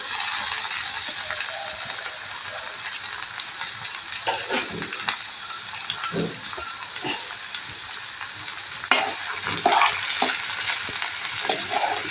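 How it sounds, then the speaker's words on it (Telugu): Chopped onion and green chilli sizzle steadily in a hot pan of oil, a continuous loud frying hiss with occasional clinks and scrapes of stirring and no talking. "ఉల్లిపాయ ముక్కలు పచ్చిమిర్చి ముక్కలు కూడా వేసేస్తున్నాం"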